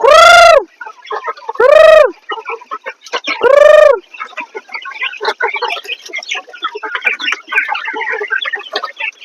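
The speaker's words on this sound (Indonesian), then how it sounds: "Kami memelihara ayam banyak emang." A large flock of farm chickens: three loud, drawn-out calls ring out first, then a dense, busy chatter of clucking from many birds fills the rest.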